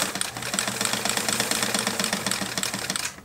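A Kenmore 1752 sewing machine zigzag-stitches through rope, running with a rapid, even mechanical chatter for about three seconds before stopping.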